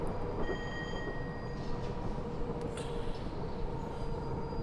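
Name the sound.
Class 421 train running in Train Simulator video game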